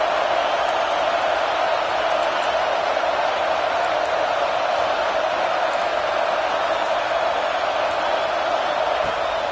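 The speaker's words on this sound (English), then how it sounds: "This crowd, full throat, spreading the eardrums" A stadium crowd at a USC football game keeps up a dense, continuous roar that fills the air at a steady high level from start to finish.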